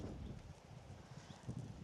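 Hooves of racehorses Blue Storm and King at the Races clip-clop low and steady at a walk on a flat-racing stable yard, faint and continuous with a muffled rhythmic thud.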